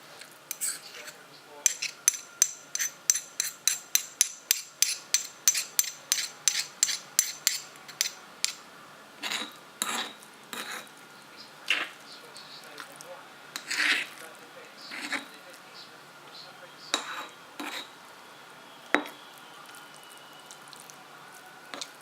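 Pesto ingredients and olive oil are mixed with rhythmic, close wet clicks and squelches, fast and regular at first, then slowing into sparser separate strokes.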